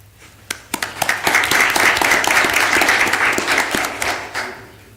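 Applause at a board of directors meeting honours employees for their years of service, a burst of many hands clapping steadily in a room, building quickly, holding, then tapering off.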